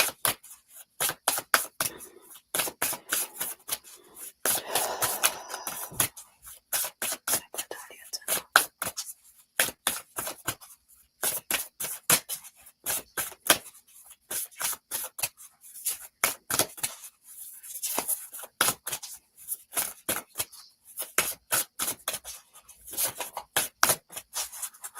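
An Oracle of the Universe card deck is shuffled by hand, giving rapid, crisp rhythmic riffling and flicking of cards, close and continuous with brief pauses.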